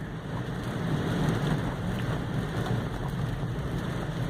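Steady patter of rain falling outside a taxi at night, a dense, even hiss with a low rumbling undertone, continuous and moderately loud with no talking.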